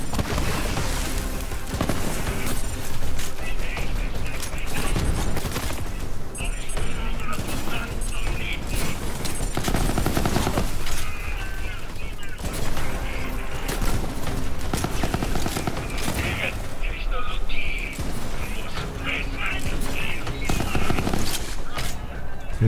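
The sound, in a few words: gunfire from sticky weapons in video game Borderlands 3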